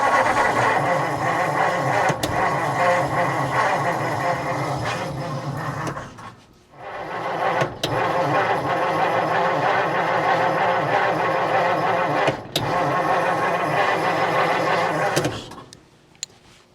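A 1949 Meteor car engine cranking and running on choke, a steady mechanical drone that drops out briefly, restarts with sharp clicks, then cuts off near the end; close and loud, no talking.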